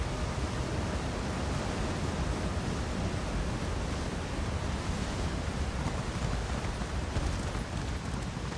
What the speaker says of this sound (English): That white noise from the river.